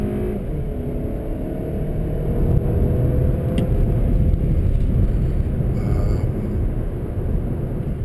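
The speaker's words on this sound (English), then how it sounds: "So, 2020 Volkswagen Golf wagon with turbo." A 2020 Volkswagen Golf wagon TSI 4motion with a turbocharged engine is heard from inside while driving, a steady loud low rumble of engine and road noise that swells slightly midway, with no talking.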